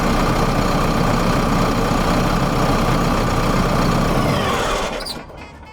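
A JCB 3CX backhoe loader's diesel engine idles steadily and loudly at close range, then winds down and cuts out near the end as it shuts off automatically.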